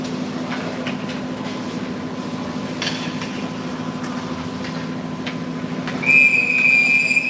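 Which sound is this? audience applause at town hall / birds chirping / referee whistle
referee whistle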